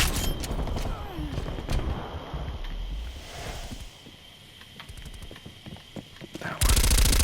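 An MP5 submachine gun fires in Black Ops Cold War, rapid bursts of automatic shots crackling through the round with other game effects, then a loud burst at the very end.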